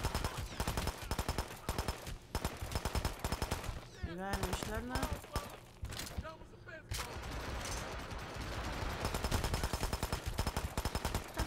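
Dense, rapid gunfire from the video game Hitman: Absolution rattles almost continuously in bursts, with a brief spoken remark partway through.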